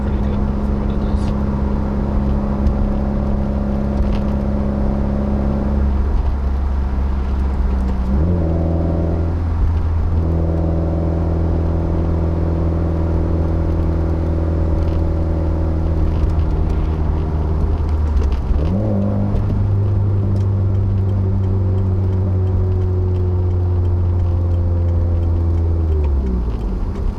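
A 2015 Subaru WRX driving on the road, its engine droning steadily from inside the cabin, with pitch dropping and climbing again through gear changes and a constant low rumble of road noise.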